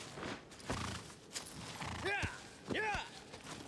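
A horse in the Shadow of the Colossus video game neighs twice with rising, wavering whinnies, mixed with soft hoofbeats and someone talking over it.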